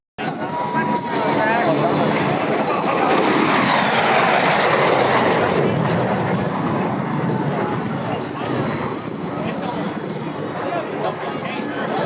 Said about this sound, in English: The C-130 Hercules from Rhode Island Air National Guard's coming down.